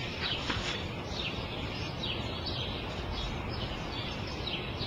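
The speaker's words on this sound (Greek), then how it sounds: "ένας σπουργίτη ήρθε και κάθισε απέναντί μας" Sparrows chirp faintly in short repeated tweets over a dense, steady background hiss of traffic or wind.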